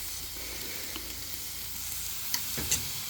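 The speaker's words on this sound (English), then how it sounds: "I'm gonna go ahead and add a little garlic into the mushrooms." Garlic and mushrooms frying on a Blackstone griddle, a steady loud sizzle throughout with a couple of brief scraping stirs near the end.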